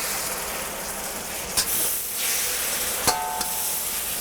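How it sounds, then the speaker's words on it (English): A splash of water hits a hot, well-seasoned wok of onions, a broad steady sizzling hiss with a few sharp crackles and pops close by. "you can add a little splash of water"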